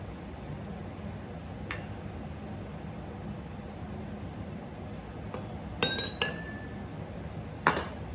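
Glass clinks while a Nikka whiskey highball is made: a few bright, ringing taps and chimes spaced over several seconds against a quiet hiss, close by and with no voices.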